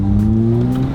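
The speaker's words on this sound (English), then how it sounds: "Why is it making turbo noises?" Turbocharged daily-driver car engine running close and loud, a steady droning hum with layered tones holding throughout, no talking over it.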